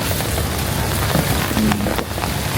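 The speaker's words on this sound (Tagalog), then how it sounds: "Kaya ayoko kapag umuulan eh." Rain falls steadily and loudly with a dense, continuous hiss close by, with no talk.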